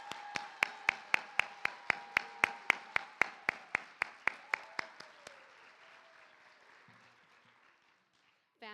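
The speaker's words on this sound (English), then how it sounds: "Please, let's welcome up and give a round of applause for Penny." Applause at a school board meeting honoring a middle school student: a small group claps in a brisk, evenly spaced rhythm of about twenty distinct claps that fade out, followed by quiet with faint voices.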